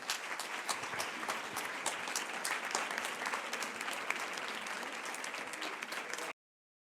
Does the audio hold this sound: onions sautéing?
no